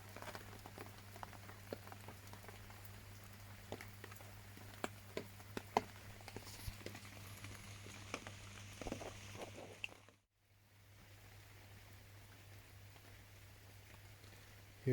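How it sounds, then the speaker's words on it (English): Steady rain patters on a fishing umbrella at night during a carp fishing session, a continuous soft drumming with scattered louder drops, close and alone with no voices, briefly dipping near the end. "you can't hear anything apart from the rain hitting on the brolly"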